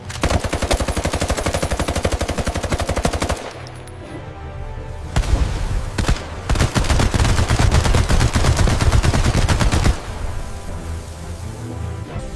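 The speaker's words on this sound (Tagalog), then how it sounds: "tadtarin nyo ng bala!" Several guns firing in long rapid bursts, dense loud machine-gun chatter that pauses briefly, then erupts again in a heavy overlapping volley before tapering off.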